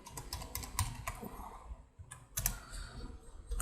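C++ code is typed on a computer keyboard in fast, steady clicking keystrokes, close and fairly loud, with a brief pause before the typing picks up again.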